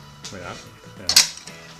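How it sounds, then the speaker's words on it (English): A sharp knife cuts straight down through a whole artichoke, making a couple of short, firm thunks and crunches against a board, fairly close. "I'm going to try to hold it in place so I can show you how you get your sharpest knife and you just cut it straight down."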